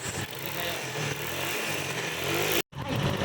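A motorcycle engine idles steadily at close range after being brought into a repair shop because it would not start. The loud, even running carries on without a break except for one brief drop near the end.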